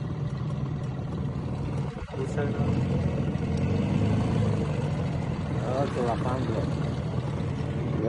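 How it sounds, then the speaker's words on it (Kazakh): An old, rattling farm tractor engine runs steadily throughout, a continuous low rumbling drone close by, with faint voices mixed in. "Тоқылдақ тракторымыз."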